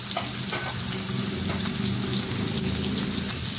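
Sliced onion hitting hot oil in a pan for a homemade jugaad rice dish, giving a steady, close, continuous sizzle with a faint crackle running through it and no voices.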